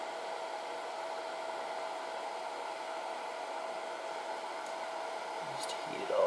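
A heat gun blows steadily with a constant, even hiss and whoosh while heating parts during a Raptor210 drone build, close and loud, with a small clink near the end.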